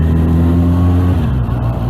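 A Bandit motorcycle engine holds a loud, close, steady drone with a strong low hum, easing and wavering slightly toward the end.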